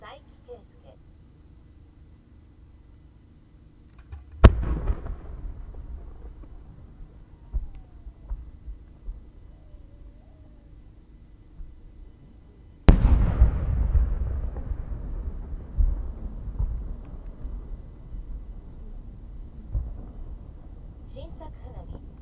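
Two loud booming blasts from a fireworks display at the Omagari fireworks festival, about eight seconds apart, each followed by a long crackling, rumbling decay, with quieter pops between them.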